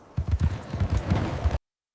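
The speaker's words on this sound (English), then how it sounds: "Driver John Shine cracked his whip, urging the horses up a hill." Horses' hooves clip-clop steadily close by as they pull a stagecoach uphill on a lonely road, a quick rhythmic run of thuds that cuts off abruptly.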